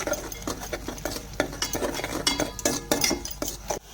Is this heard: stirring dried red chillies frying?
yes